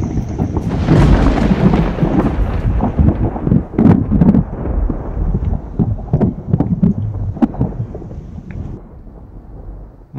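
Thunder from a thunderstorm in the Alps, heard on a hot, humid bikepacking trip. Deep rumbling rolls loud and close with scattered cracks, over wind buffeting the microphone, slowly fading toward the end.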